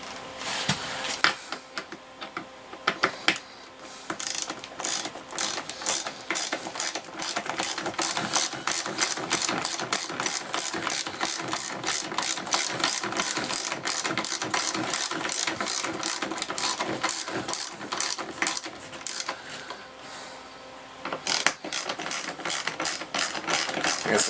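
Rapid ratchet clicking runs steadily for about twenty seconds as office chair bolts are drawn in during assembly of an AmazonBasics Big & Tall executive chair, close and fairly loud with brief pauses between strokes.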